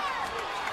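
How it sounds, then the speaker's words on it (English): Wildly excited boxing crowd roars loudly and continuously at the Manny Pacquiao vs Juan Manuel Marquez fight, a dense wash of cheering held for a brief moment. "I don't know when I've heard a crowd this wildly excited about a fight"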